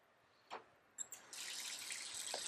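A faucet runs into a dirty bathroom sink for washing a dental retainer with helix coils, starting after a couple of faint clicks and knocks and then pouring steadily, quiet and close.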